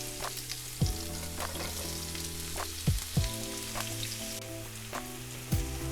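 Onions fry in a pan for a green vegetable kebab, giving a constant soft sizzle. A few sharp utensil knocks and scrapes break in at intervals and sit above a low hum.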